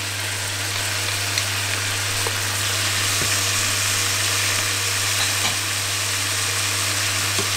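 Onions tipped into a pan of browned meat fry with a steady, close, dense sizzle over a low constant hum, with a few faint clicks and no voices.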